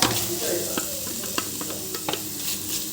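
A crushed garlic, cumin, chili and salt paste fries in oil with ponnaganti greens, a close, steady sizzle broken by light stirring scrapes and clicks.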